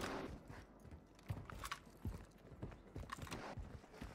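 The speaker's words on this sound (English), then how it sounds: "I hear footsteps." Footsteps thud and scuff in Call of Duty: Warzone near a prison roof, coming as quick, soft, irregular steps under other faint game noise.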